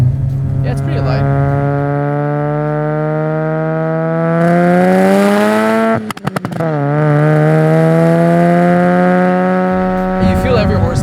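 A 500whp single-turbo Mazda RX-7 rotary engine with titanium exhaust revs hard in a long, loud sustained pull, pitch climbing steadily, a brief stuttering break midway, then droning high again before easing off.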